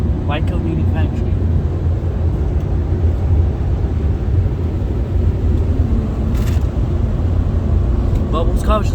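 A Ryko Softgloss XS2 automatic car wash runs with a steady low mechanical rumble and a broad wash of spray, machinery droning evenly throughout from close by, while people talk briefly over it.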